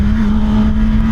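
A 2025 Kawasaki ZX-10R one-litre sport bike engine held at a steady high rev, loud and close, its strong constant drone filling the whole moment without pause.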